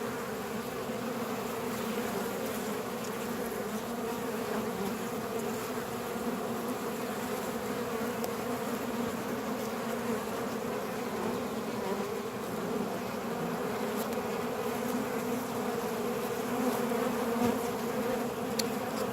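Bees buzz steadily around a sunflower, a continuous close droning hum that holds at an even level throughout with no talking.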